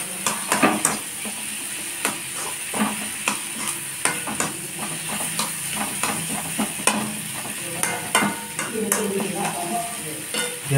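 Food frying in a pan for a quick breakfast dish, with steady sizzling and frequent sharp clinks and scrapes of a spoon stirring against metal, close and fairly loud.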